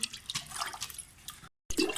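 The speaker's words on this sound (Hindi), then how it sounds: "6 कप मैंने इसमें पानी के डाल दिए हैं" Six cups of water poured into a cooking pot to boil pasta in a home kitchen, giving a soft splashing and dribbling stream that is fairly quiet, briefly cut off and then resuming.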